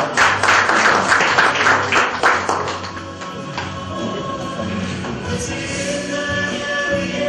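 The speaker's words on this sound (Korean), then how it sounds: "박수로 환영해 주시기 바랍니다" An audience at a prayer retreat claps in welcome, with dense applause for a few seconds that thins into scattered claps and room noise.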